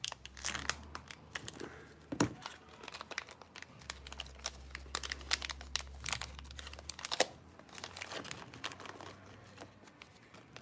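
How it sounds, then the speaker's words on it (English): A small plastic bag of parts for a TRX6 RC tank-track kit being torn open and handled, giving faint, close, irregular crinkling and rustling with occasional sharper crackles. "So try and open this little baby bag."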